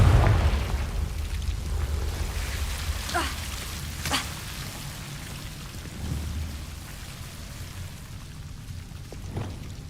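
Confringo fire spell explosions in Hogwarts Legacy on PS5: a low booming burst at the start, then a few sharp cracking blasts scattered over a hissing, rain-like background.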